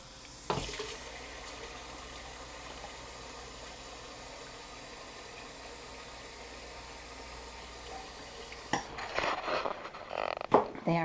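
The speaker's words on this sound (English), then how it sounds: "we have to get a glass of water." A kitchen water tap runs to fill a glass, a steady hiss of flowing water at moderate level for most of the span, ending in a burst of louder splashing and clatter.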